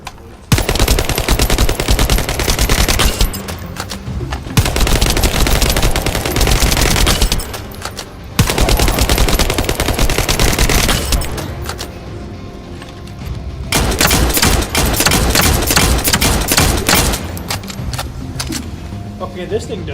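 Rapid automatic gunfire in the First Descendant video game, shots fired at spawned practice targets; loud sustained bursts of several seconds separated by brief pauses, with a voice talking under the shooting.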